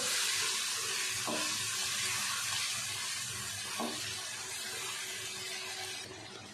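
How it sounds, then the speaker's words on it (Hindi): Steady hissing sizzle of water added to frying spice masala in a hot pan, a continuous bubbling crackle that slowly eases toward the end. "थोड़ा सा पानी डालेंगे मसाले को भूनते हुए"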